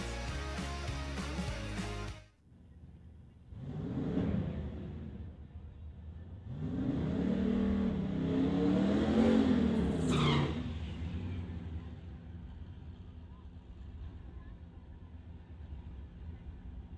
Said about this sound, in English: Eighth mile racing here